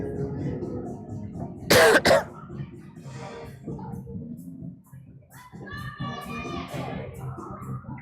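A single sharp cough from a game commentator with a cold bursts out near the mic, followed by a throat-clearing sound, with indistinct chatter and background voices around it.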